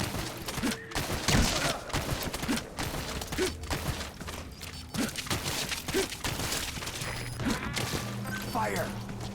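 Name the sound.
gunfire in video game Metal Gear Solid V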